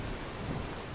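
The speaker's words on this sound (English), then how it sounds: "Alright, it's still raining." Steady rain pours in a video game, a dense, even hiss of falling water with low rumbling underneath, continuous and unbroken, with no voices.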